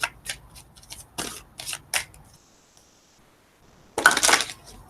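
Cards are riffled and shuffled in several quick bursts, a pause with a faint tone, then one louder final shuffle up close.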